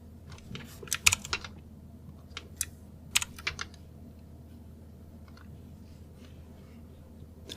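Scattered clicks of a computer keyboard as a short phrase is typed into a web console, a few clustered bursts of keystrokes followed by a quiet stretch with low room hum.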